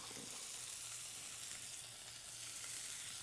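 Garlic and green onion sauté in a hot pan, giving a steady, close sizzling hiss that holds evenly throughout with no talking.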